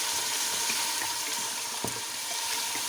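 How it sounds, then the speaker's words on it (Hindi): Water is poured into a pot of beef being cooked for beef macaroni, a continuous hissing splash that runs steadily for the whole few seconds, with no talking. "पानी इतना डालना है कि गोश्त डूबा हो।"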